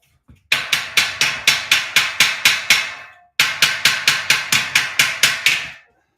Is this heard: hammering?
yes